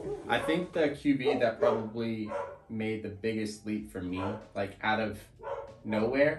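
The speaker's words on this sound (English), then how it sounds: "apologize about the guard dogs in the background" Guard dogs bark somewhere in the background, faint and intermittent beneath someone talking continuously in the foreground.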